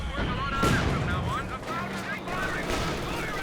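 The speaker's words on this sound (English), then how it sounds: "More mortar going after the Raketin" Mortar rounds in Company of Heroes 2 thump and burst amid a busy battlefield mix of gunfire and distant explosions, with a commentator's voice running over the top.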